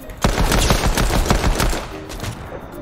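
Loud, close gunfire in a video game shooter: rapid, tightly spaced automatic bursts rattling continuously for a few seconds, with no talking.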